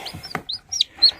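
Newly hatched chicks cheep in short, bright high peeps, several quick calls spaced across a brief moment, close and clear with a soft thump among them.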